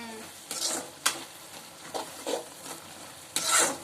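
Prawn gravy with masala stirred in a pan, a few separate scraping strokes and soft sizzles over a quiet background, close but faint.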